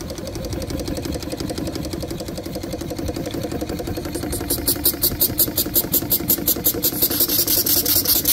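A newly built small steam engine runs on steam, chuffing in a fast even rhythm that grows louder and more pronounced partway through, close by over a steady hiss.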